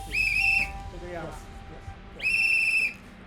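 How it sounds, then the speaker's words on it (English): A handheld safety whistle handed out for alerting others on a New York street gives two shrill, steady blasts, each about half a second to a second long, loud and close with faint background voices between them. "handing out whistles to Asian Americans so they can alert others if they are attacked"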